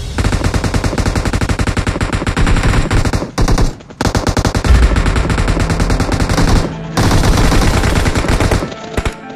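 Near-continuous automatic gunfire in the battle-royale game PUBG Mobile, rapid loud bursts that run almost without pause, broken only by two brief gaps, with no talk.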